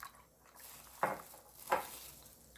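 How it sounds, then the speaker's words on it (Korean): Wheat flour and water are stirred in a bowl to make a porridge paste for kimchi, giving two short, close wet scraping swishes against a quiet background. "풀물 끓이기 위해서 덩어리 없이 잘 저어주세요"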